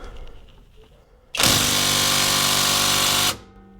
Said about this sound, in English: maybe a different impact gun